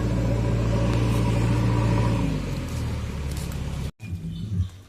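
A JCB excavator engine rumbles close by with a heavy, steady low drone that eases off after a couple of seconds, cuts out briefly, then resumes more unevenly.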